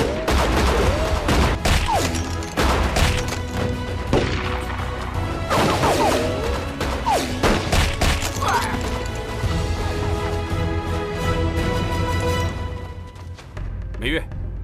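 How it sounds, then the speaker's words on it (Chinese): Repeated gunshots and bullet impacts crash and clatter near a window in a kung fu action gunfight scene, sharp bursts recurring throughout over music, with voices speaking and shouting in between. "美月，美月，快离开窗户那儿，那子弹可不长眼睛"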